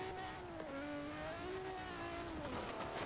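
A car engine in the Forza Horizon 4 racing game, sounding like a Nissan 350Z, holds a loud, steady high rev throughout, its pitch drifting up and down slightly with no voices over it.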